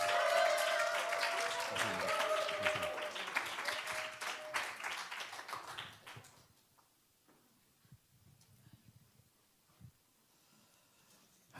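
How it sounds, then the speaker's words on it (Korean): A church congregation applauds to welcome the pastor, steady clapping for about six seconds before it fades into quiet room tone. "우리 큰 박수로 환영하도록 하겠습니다"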